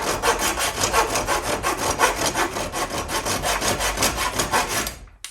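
Folding hand saw cutting through wood, loud and close, with steady rapid back-and-forth rasping strokes in an even rhythm that stop abruptly at the end.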